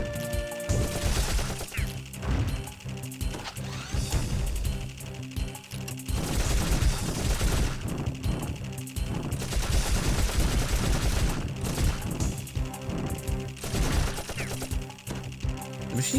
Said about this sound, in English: The machine gun is interesting because they've actually sort of done it differently in the sense that it seems to be a hit scan type weapon